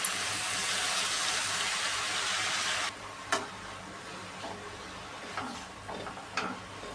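Fenugreek leaves sautéing in a pan, a loud steady sizzle that cuts off partway, followed by quieter scattered scrapes and taps of stirring.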